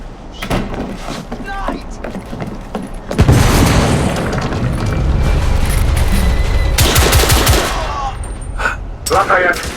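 An explosion tears through a ship in The Order: 1886, a sudden heavy boom followed by sustained roaring rumble and crashing debris, with voices speaking around it.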